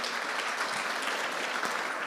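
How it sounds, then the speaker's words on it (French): Steady applause from an audience at a conference session on Provence soils and vineyards, dense even clapping that stays loud and close for the full two seconds. "On peut les applaudir."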